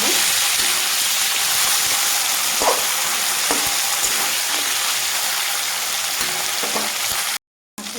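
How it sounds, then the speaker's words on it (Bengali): Steady, dense sizzling of broken-up fish heads frying crisp in hot oil, loud and close, with a few faint clinks and no voices. "তো একটু একটু ভেঙে ভেঙে দিলাম মাথাগুলো একটু কড়া করে ভাজবো"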